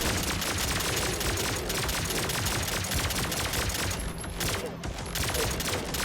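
Dense, rapid gunfire from weapons in the shooter game Turbo Overkill, a steady loud barrage of shots with brief gaps, plus explosive hits near the end.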